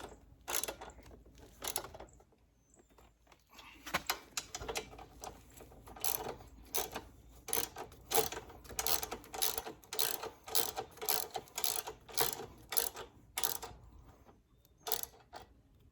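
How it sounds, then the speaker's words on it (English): A ratchet with a 13 millimeter socket tightens a seat bolt on a Honda CRF300 Rally motorcycle, a brisk run of rapid clicking strokes in short bursts, close and crisp, with a few pauses between pulls. "So now I'm just gonna tighten up the seat, and that's the 13 millimeter socket."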